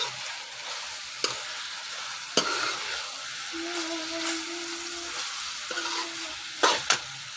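Cauliflower and minced mutton frying in a pan, a constant close sizzle with a few sharp scrapes and knocks of a spoon as the mixture is stirred, plus a faint steady hum in the background.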